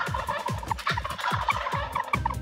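Wild turkeys gobble in rapid, repeated bursts of rattling calls, several birds overlapping close by in a steady rhythmic chorus with no talking.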